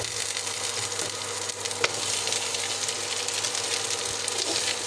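Onions frying in a pan with mashed potato added for aloo paratha filling, a steady close sizzle with a faint clink or two and no talking.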